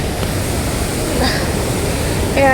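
The waterfall at Neyyar Dam near Thiruvananthapuram gives a steady, dense rush of falling water, loud and unbroken throughout.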